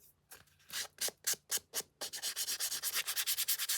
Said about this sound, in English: This is the sander.